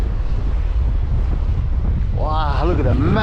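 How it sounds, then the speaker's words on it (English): Extreme wind buffets the microphone in a constant loud, low roar while a DJI Mavic 3 drone flies in sport mode, and a voice exclaims over the gusts near the end. "Extremely windy."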